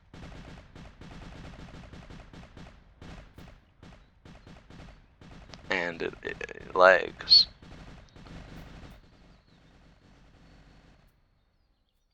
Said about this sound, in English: But yeah, it's a fully automatic cannon.